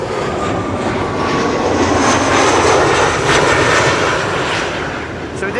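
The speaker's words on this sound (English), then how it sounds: "Whenever they throttle up or throttle down, it's probably resonance or something. But you only hear it with those airplanes with those engine types." Embraer E2 airliner with geared turbofan engines, a loud, steady broadband roar with a slight resonant swell as thrust changes, heard close and continuous at an airport arrivals spot.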